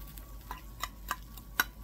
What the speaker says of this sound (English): You can hear it sizzling and it's all nicely done around the edges.